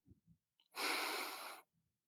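A single deep breath drawn in, soft and close, lasting under a second amid quiet, with faint murmurs just before and after.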